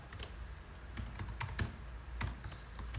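Keys clatter on a computer keyboard during a Windows 10 settings task, brisk irregular typing with a few louder taps, close and quiet with no talking.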